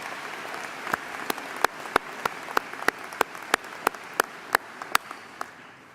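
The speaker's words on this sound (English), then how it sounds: "Give them a big round of applause." Sparse, sharp claps ring out one at a time at an indoor university convocation, a dozen or so isolated hand claps spaced roughly evenly rather than a full ovation.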